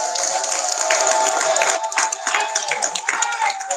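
Audience at a poetry slam clapping and cheering in a steady, fairly loud burst of applause with crowd noise mixed in.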